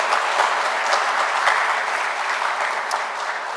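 Audience at a museum's annual meeting presentation breaks into steady applause, a dense, even wash of many hands clapping close by, sustained throughout with no talking over it.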